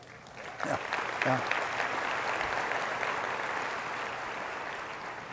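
Sustained applause from an audience at a leadership talk, a dense wash of clapping that holds steady throughout, with a brief spoken word over it near the start.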